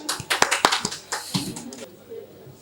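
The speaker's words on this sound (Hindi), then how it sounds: "भरपूर तालियों में" Applause from an audience at an Urdu poetry gathering, a burst of several quick claps that thins out and fades within about two seconds, with some talk around it.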